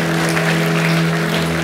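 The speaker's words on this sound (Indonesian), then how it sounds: "Berikan tepuk tangan buat Tuhan kita" Applause from a church congregation at a Gibeon Church service in Surabaya, a steady dense clapping wash sustained over an organ or keyboard chord that hums underneath throughout.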